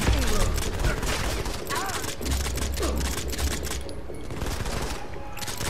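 Rapid suppressed gunfire from a silenced gun in Modern Combat 5: Blackout on Android, a fast stream of muffled clicking shots with thuds and brief pauses, loud and close, under a low voice.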